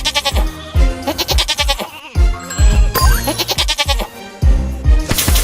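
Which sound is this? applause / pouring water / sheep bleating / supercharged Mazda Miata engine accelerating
sheep bleating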